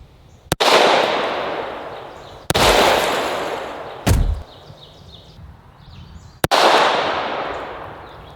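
Four loud, sharp shots from a 9mm pistol loaded with CCI number 4 shotshells ring out at uneven intervals as a soda can is hit from about 8 feet. Each shot echoes briefly and dies away before the next.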